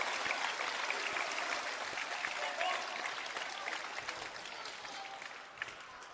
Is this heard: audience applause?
yes